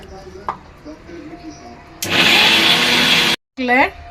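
Loud whirring grind of a kitchen mixer blending ginger and garlic into paste, starting abruptly after quieter talk, running steadily for over a second, cutting off, then briefly restarting as a voice resumes.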